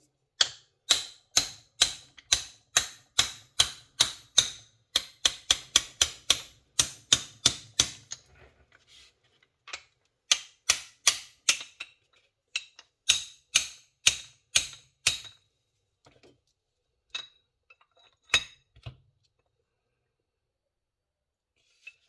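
A ratchet with a deep socket works bolts loose on an LS engine during piston disassembly: crisp, evenly spaced clicks in quick runs, pausing between runs and thinning out toward the end, close and alone.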